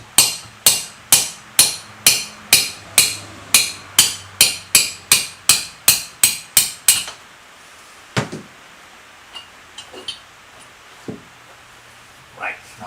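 A small hammer taps metal on a BM 250 trials motorcycle part in a steady run of about eighteen sharp, ringing strikes, not struck hard, then stops, leaving a few scattered clanks.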